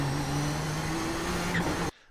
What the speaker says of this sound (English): Once the car is up to full throttle and then shifting up into third gear here